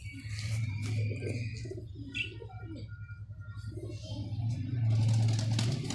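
Pigeons coo at a pigeon club with a steady low murmur, joined by a few chirps and a brief high whistle, close by with no talk.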